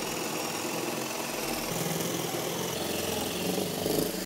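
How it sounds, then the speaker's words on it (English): A power drill whirs steadily for several seconds boring a very small hole in timber, its motor droning close by with a slight strain toward the end before stopping abruptly. "I'm just drilling a very small hole at the back of these timbers."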